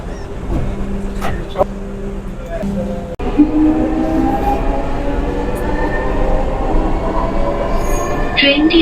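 A Dhaka Metro Rail train runs between Mirpur 10 and Secretariat, heard from inside as a loud, continuous rumble carrying faint tonal whines and squeals of the wheels.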